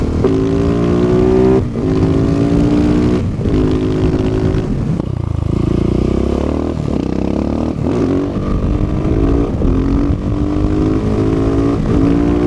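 A supermoto motorcycle, a 701 with an Akrapovič exhaust and no dB killer, revs loudly and repeatedly up close, sharp rising bursts of buzzing exhaust separated by brief drops between gears.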